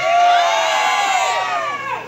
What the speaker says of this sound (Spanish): que se escuche nuevamente el desmadre del Pariente Club